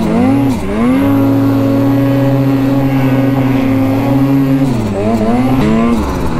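Snowmobile engine running steadily at high RPM in fresh snow, a loud continuous droning whine with brief dips and revs near the start and end.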